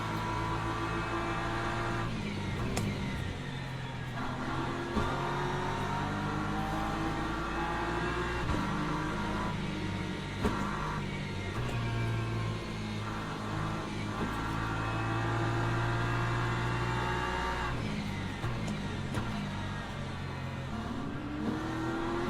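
Racing car engines in the Le Mans Ultimate sim, a steady layered drone of several revving motors with shifting pitch as gears change, continuous and fairly loud throughout, with no talking.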